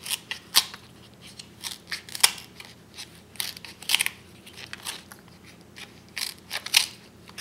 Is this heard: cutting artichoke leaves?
yes